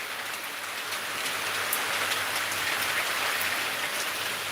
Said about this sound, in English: It's literally pelting down here right now with strong winds.